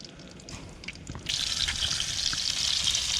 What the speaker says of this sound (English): Right, so that's what we want, that nice sizzle.